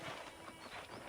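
Horse hooves clip-clop in a steady gait in the Red Dead Redemption video game, a quiet, continuous rhythmic patter with no talking.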